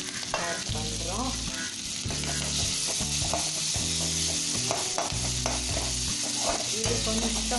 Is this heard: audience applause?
no